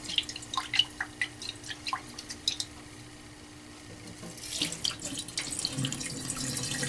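Water draining out of a sprouting jar of microgreen seeds, first scattered close drips and trickles, then a louder gushing pour into a sink toward the end.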